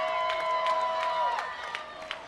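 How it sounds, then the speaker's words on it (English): A crowd cheers for the Conyers Bulldogs at a middle school football game against Liberty, a steady roar of voices and applause that swells and then slowly fades, with a few sharper shouts near the end. "Crowd cheering for their Conyers Bulldogs, being up 10-0."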